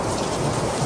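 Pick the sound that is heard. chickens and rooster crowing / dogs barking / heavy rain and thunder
heavy rain and thunder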